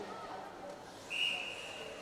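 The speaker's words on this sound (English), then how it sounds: "we get on a whistle on the play as Marty covers that one up" A referee's whistle blows once, short and sharp and somewhat distant, in a women's ice hockey playoff semi-final between Swindon Topcats and Firebees, heard over crowd ambience.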